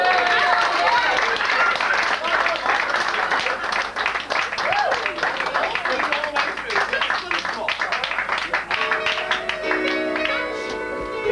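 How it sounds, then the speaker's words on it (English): A pub audience breaks into sustained clapping and cheering after a pantomime performance of The Sleeping Beauty at a Birmingham pub in 1989, dense and continuous throughout, with voices and chatter mixed in. "Give them a round of applause."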